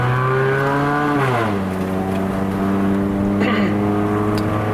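Cabin view of a 2008 Toyota Corolla Altis 1.8E (E140) with the 1.8-litre 1ZZ-FE engine and a four-speed automatic, driving the Genting climb in Malaysia. A loud, steady engine drone drops in pitch at a gear change, then holds at lower revs.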